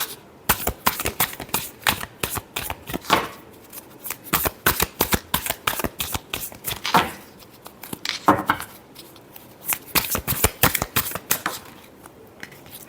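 Tarot cards being shuffled during a Virgo love reading, a steady run of crisp riffling flutters and slaps, close and fairly loud, with short pauses between bursts and no talking.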